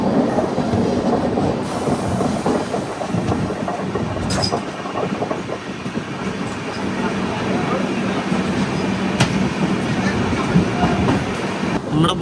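Pune–Ernakulam Superfast Express rolling along in an AC 2 Tier coach, with a continuous loud rumble of wheels and rails, occasional clicks and faint squeals, and muffled voices in the background.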